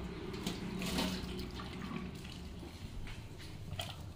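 Water pours from a tap into a pressure cooker holding potatoes in a home kitchen, a close, steady splashing rush that swells near the start and then runs on evenly.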